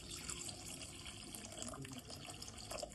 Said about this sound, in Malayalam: ഇനി ആവശ്യത്തിന് വെള്ളം ഒഴിച്ചിട്ട് തിളച്ച് കഴിയുമ്പോൾ നമുക്ക് മീൻ പെറുക്കി ഇടാം